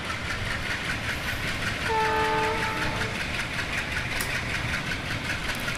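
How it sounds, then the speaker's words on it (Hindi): An ALCO diesel locomotive hauls away during Maitree Express shunting near Kolkata, its loud engine rumble and rolling wheels filling the scene, while a short two-tone horn blast sounds midway, close and continuous with no speech. "और पूरा ब्लैक स्मोक छोड़ते हुए जा रही है हमारी एल्को लोकोमोटिव"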